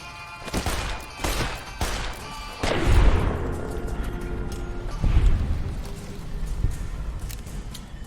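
Gunfire rings out as Eddie shoots a ghoul in Fallout New Vegas: a few sharp cracks, then two heavier booming shots with long echoing tails over a steady game background.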